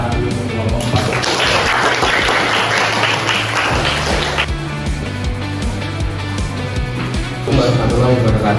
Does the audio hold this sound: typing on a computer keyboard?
no